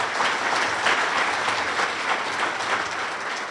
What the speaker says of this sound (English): Give Carrie a round of applause.